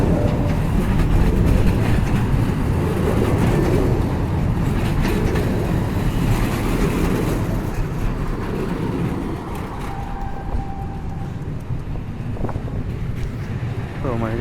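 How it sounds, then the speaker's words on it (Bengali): A metro train rolls across the Luís I bridge in Porto, a steady close rumble with wheel clatter and gusting wind across the microphone, continuous and fairly loud throughout. "তার সাথে লমদুইশ ব্রিজের ওপর দিয়ে মেট্রো, অসম্ভব দারুণ"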